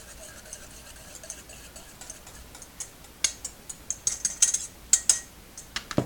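Whisk or spoon clicking against a bowl while French toast batter with vanilla extract is mixed, a soft run of light ticks that grows into sharper, more frequent clinks toward the end, close by with no talking.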